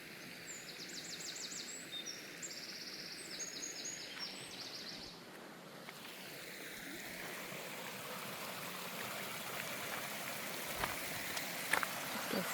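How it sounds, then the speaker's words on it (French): Waterfall at the Source Bleue in the Doubs, a steady broadband rush of falling water holding constant throughout, with faint bird chirps and occasional small splashes over it. "Cascade."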